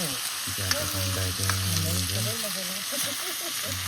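Meat cooks in a pan in a cattle shed at Nage Pokhari, Gorkha, with a steady, fairly loud frying hiss throughout while a voice talks over it in the first half.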